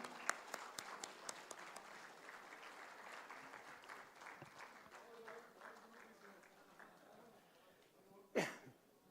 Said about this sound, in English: Can we have a round of applause to welcome the Minister?